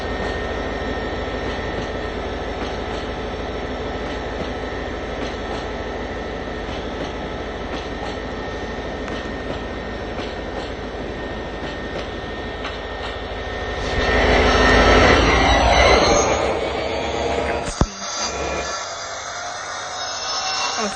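A locomotive engine in the Trainz Driver 2 video game drones steadily at notch 8, a constant loud rumble that surges briefly near the end before cutting off abruptly.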